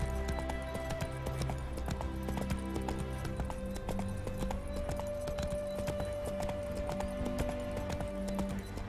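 Rhythmic clip-clop of horse hooves at a brisk gallop in The Witcher 3: Wild Hunt, steady and close, over a faint musical backdrop.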